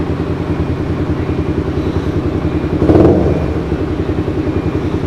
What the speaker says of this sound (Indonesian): Engine on, clutch lever, then go.